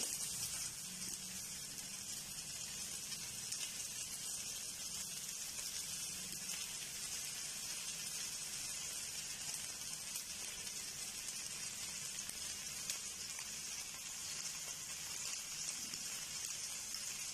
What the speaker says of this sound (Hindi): तो इस तरह हम साइड से अब थोड़ा थोड़ा इसे कुकिंग ऑयल डालेंगे।